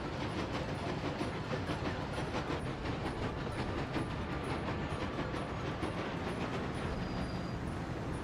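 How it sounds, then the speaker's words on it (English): Train pulling into a station in a video game, a quiet continuous rumble with rhythmic clicking of wheels on track and faint hiss throughout, distant and low in level. "So you see this train here?"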